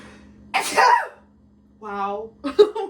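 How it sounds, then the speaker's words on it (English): A sneezing fit: one sharp sneeze followed by a short voiced breath and another quick sneeze-like burst, close and loud against near silence. "Sneezing fit."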